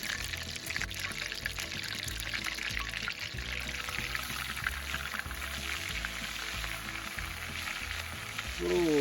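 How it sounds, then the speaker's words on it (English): Walleye fillets pan-fry in hot oil outdoors in the wilderness, giving a steady, close, crackling sizzle throughout, with a brief pouring or splashing sound near the end and no talk. "Our oil is good and hot. So let's go ahead and drop our fish in there."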